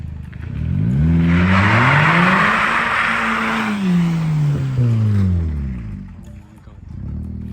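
Revving engine of a VW Golf Mk5 fitted with a sport air filter, loud and close, its pitch climbing and falling through several sustained throttle sweeps, with a raspy intake roar on top and a voice calling out over it.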